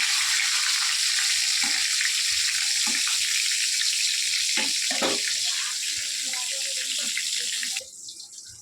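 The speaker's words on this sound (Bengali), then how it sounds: "এই যে আমাদের পটল ভাজা হচ্ছে, করে পটলগুলো ভেজে নেবো।" Sliced pointed gourd (potol) fries in a pan of oil with a steady, close hiss and scattered soft clinks and spatters, quieting near the end.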